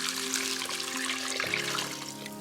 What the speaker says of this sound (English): we can just pop in this stock